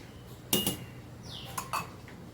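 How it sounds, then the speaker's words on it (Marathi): A metal spoon clinks a few times against a pot while stirring tea on a low simmering gas flame, sparse light taps over a quiet background hiss. "गॅसची फ्लेम सिम करायची आणि चमच्यांनी थोडा वेळ ढवळायचे"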